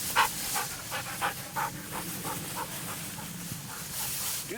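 A Griffon bird dog pants rapidly and rhythmically close by during a Wyoming pheasant hunt, its quick breaths steady throughout with outdoor background noise.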